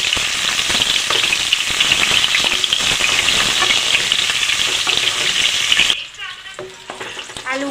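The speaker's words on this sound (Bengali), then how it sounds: "তেল গরম হয়ে গেছে, সেদ্ধ করা আলু তেলের মধ্যে দিয়ে ভেজে নেব।" Boiled small potatoes for dum aloo frying in hot oil, a loud, close, continuous sizzle for about six seconds that then drops sharply to quieter crackling and stirring clinks, with no speech.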